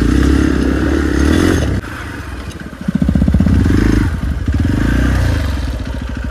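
A motorbike on a rough, dangerous off-road trail near the Jhilmil cave outside Rishikesh, its engine loud and close, revving and dipping as the bike clatters and thumps over the broken ground.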